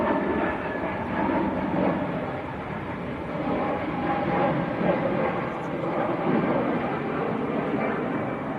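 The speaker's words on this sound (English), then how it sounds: "Lufthansa just getting airborne." A Lufthansa Airbus A320neo climbs away from Manchester Airport bound for Munich, a steady distant jet roar with a broad rumbling wash and a voice talking over it.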